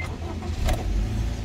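A 2017 Honda Brio E manual hatchback's engine runs at a steady close idle, a low continuous hum with a slight rise in the middle.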